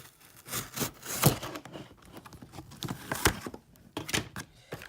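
Packaging rustles and tears as the box of a Traxxas Velineon 3500kv brushless motor is opened, with several sharp crinkles and snaps among quieter shuffling, close and fairly faint.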